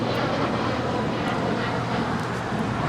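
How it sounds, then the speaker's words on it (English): A United Airlines 737 MAX 9 departing LAX for Houston gives a loud, continuous jet-engine roar, a dense, unbroken rumble with no voices over it. "This departure is United Airlines Flight 2410, departing to Houston Intercontinental. It's a 737 MAX 9."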